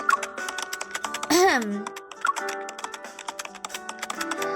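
Rapid, steady clicking of keys on a computer keyboard, close up, with a brief louder tonal sweep partway through.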